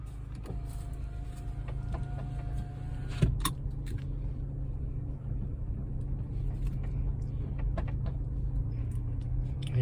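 A car idles and creeps slowly around at a national park entrance, a steady low engine rumble throughout with a brief clunk midway and faint mechanical whine early on.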